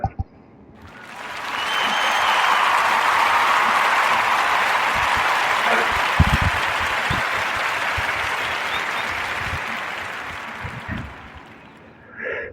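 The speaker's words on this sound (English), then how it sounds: "give a warm narrative podcast round of applause for Dr." A dense, sustained round of crowd applause for a podcast swells in quickly, holds steady and loud for about ten seconds, then fades away, with a few louder claps near the end.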